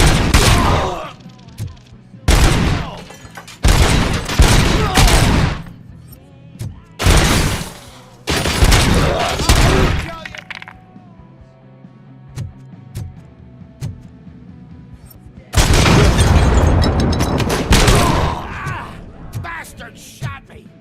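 Loud gunfire in the video game Robocop Rogue City: repeated dense volleys and automatic bursts in several clusters, with shouting voices between and over the shots and a long sustained barrage near the end.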